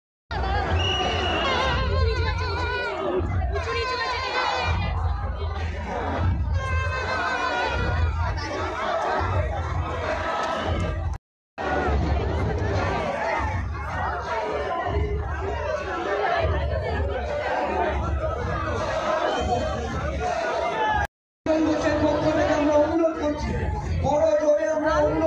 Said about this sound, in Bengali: ভিড়টা দেখো তোমরা সবাই, আজকের ভিড় দেখো, প্রচন্ড ভিড়